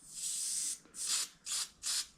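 Lubricant is sprayed onto the derailleur of a 1965 Schwinn bicycle. One long hiss is followed by three shorter, close bursts, each clean and loud with no talk over them.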